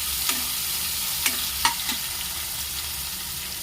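Tomatoes tipped into a hot pan and stirred for a Gujarati kaju gathiya curry, a loud steady sizzle broken by a few light scraping knocks of the spoon, close up with no voices.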